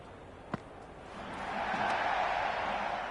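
A stadium crowd in the PS5 game Cricket 26, during an England vs Sri Lanka T20 World Cup match, swells from a low murmur into a steady, loud roar that holds to the end after a brief early thump.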